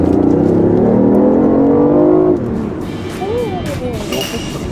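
A car accelerates hard, its engine roaring with rising harmonics that climb steadily and loud before dropping to a lower rumble as it shifts, then climbing again, with voices faintly underneath.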